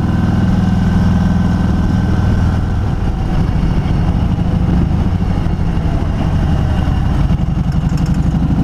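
Harley-Davidson motorcycle rumbling steadily on a mountain pass road, the engine's deep, continuous throb loud and close throughout, with wind noise layered over it and no voices.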